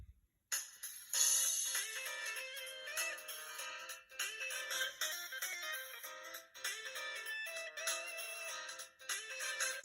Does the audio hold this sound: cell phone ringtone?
yes